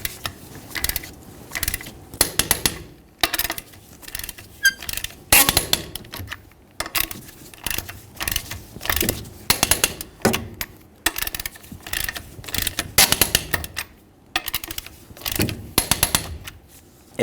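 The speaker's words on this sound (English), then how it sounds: "let's torque these in a crisscross manner." A wrench torques the wheel lug nuts on a 1999-2001 Ford Ranger, giving repeated bursts of sharp ratcheting clicks with short pauses between nuts, close and fairly loud.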